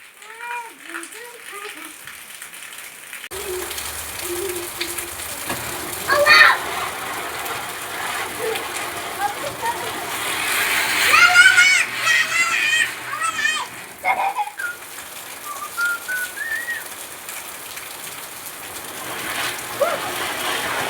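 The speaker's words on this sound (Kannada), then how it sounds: "ಸೌಂಡ್ ಕೇಳಿಸ್ತಾ ಇರ್ಬೋದು ನಿಮಗೆ ಮಳೆ ಸೌಂಡ್ ತುಂಬ ಜೋರಿದೆ" Heavy rain falling steadily outdoors during Diwali, a broad continuous hiss that swells louder midway, with children's voices and talk heard over it.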